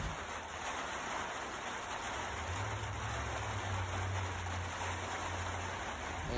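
Steady rain falls throughout, a constant hiss with a low rumble underneath and no voices.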